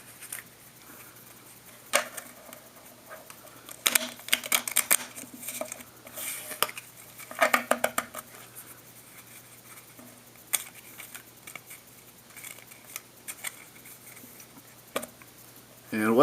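A deck of playing cards is shuffled in soft, scattered riffles and taps with quiet pauses between bursts, close and fairly faint, with no talking.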